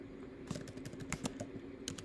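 Rapid, close typing on a computer keyboard, with quick irregular clicks and a few louder key strikes over a faint background hum.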